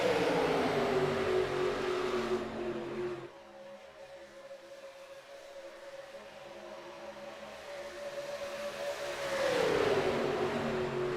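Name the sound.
NASCAR race car engines at Talladega in iRacing video game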